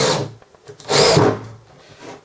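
A power drill drives an Optimaxx wood screw with a self-cutting countersink head into timber, giving two short whirring bursts separated by a brief pause, close and moderately loud.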